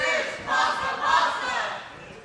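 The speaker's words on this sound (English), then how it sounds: "We got a fish pasta chant in the crowd." A crowd at an obstacle course competition chants in rhythmic, swelling waves of massed voices, loud and somewhat distant, rising and falling across two or three beats.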